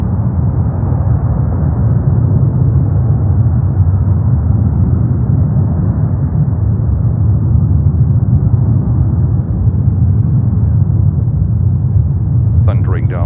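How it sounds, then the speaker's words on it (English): A heavily loaded cargo jet on its takeoff roll at JFK, bound for Istanbul, gives a loud, continuous low rumble that holds steady throughout, with a faint higher whine at the end. "Thundering down runway 31 left."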